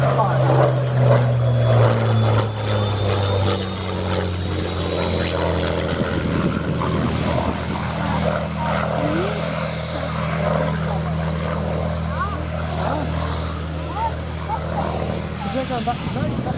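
An aircraft flies past at the Shuttleworth Fly Navy air show, a loud steady propeller and engine drone with a rotor-like throb and subtle pitch shift as it passes, with people talking underneath.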